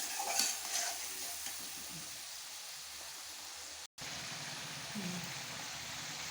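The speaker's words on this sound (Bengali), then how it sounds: "একটু দই ফেটিয়ে নিয়েছিলাম, ওটাকে দিয়ে দিচ্ছি। এখন মশলাটাকে ভালো করে কষিয়ে নেব।" A spice paste with whisked yogurt is stir-fried in a pan, giving a soft continuous sizzle with scraping stirs, moderately quiet and close, with a brief dropout near the middle.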